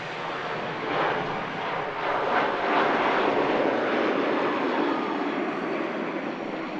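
A Boeing 787 Dreamliner lands at Manchester Airport with a broad, steady jet roar that builds slightly and holds, heard from a distance across the airfield without any talking.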